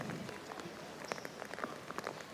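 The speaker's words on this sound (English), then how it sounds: "the women's high jump is interrupted due to rain" Rain falls steadily on an outdoor athletics stadium during an evening session, a continuous wash of patter with scattered sharper drop hits, moderately loud and with no voices over it.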